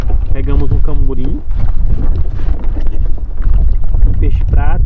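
Strong wind blowing across the middle of a lake in the Maranhão waterways, a loud, steady roar of wind buffeting the microphone, with people talking over it.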